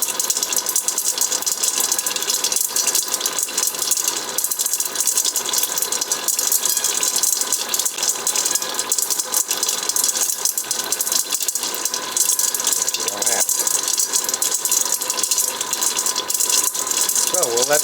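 A coating pan spins chocolate-coated freeze-dried Skittles, giving a steady, continuous rattling whir that carries on at an even level throughout.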